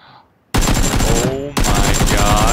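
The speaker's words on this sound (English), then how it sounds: "Getting shot from behind the ice cream shop." Gunfire in the battle-royale video game PUBG: a quiet start, then loud rapid automatic bursts break in suddenly, pause briefly, and resume in a dense, close, rattling volley.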